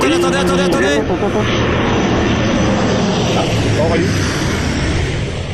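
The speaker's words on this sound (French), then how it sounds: "c'est un avion qui passait, parce qu'on est près d'un aéroport" Fixed-wing airplane passing overhead near an airport, a loud continuous broadband engine roar that fills the whole clip, with a brief tonal clatter at the start and voices talking faintly beneath it.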